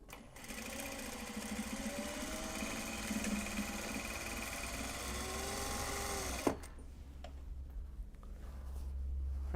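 A sewing machine stitching large box bags made from Japanese fabric, a fast steady whirring run that stops abruptly with a clunk, followed by quieter room noise.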